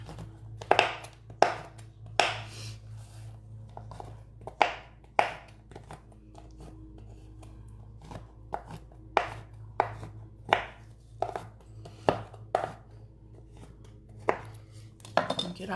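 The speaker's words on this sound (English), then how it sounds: "I'm just gonna coarsely chop these up." Knife coarsely chopping ingredients for grasshopper brownies on a cutting board: a series of sharp, uneven thuds in loose clusters, close by, over a low background hum and without talk.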